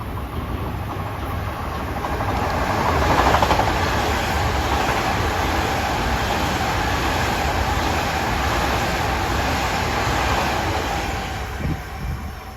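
An LIRR M9 electric train bound for Ronkonkoma passes through Westbury station on the triple-track line, a loud continuous rumble and rush of wheels building and holding close by for the full span before easing slightly.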